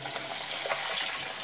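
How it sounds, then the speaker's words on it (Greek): Hot water running from a hotel bathroom sink faucet, a steady close splashing stream at moderate volume, alone with no voices. "Σχεδόν αμέσως μου ήρθε το ζεστό νερό."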